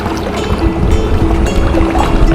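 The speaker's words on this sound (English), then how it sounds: "Got a speedboat to our right." A speedboat passes on South Silver Lake in Minnesota, its engine a steady hum under broad wind and water noise on the open lake, at a moderate distance and without a clear approach or fade.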